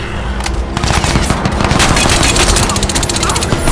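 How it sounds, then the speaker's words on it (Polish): Enemy gunfire in Crysis 2 video game, loud rapid automatic bursts rattling almost continuously with dense repeated shots, close and dominant throughout. "A gdzie jest ten koleś, który do mnie strzela?"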